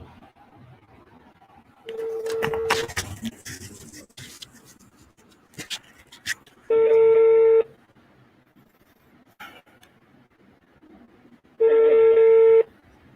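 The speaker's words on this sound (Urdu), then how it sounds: "عثمان نو کال جا رہی" Telephone call being placed: a few scattered keypad beeps and clicks, then two loud steady ringback tones about five seconds apart, each lasting roughly a second, with faint background noise between.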